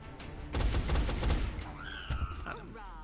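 A quick burst of gunfire in XCOM Enemy Unknown, a dense cluster of sharp shots lasting about a second, followed by game effect sounds and a voice speaking.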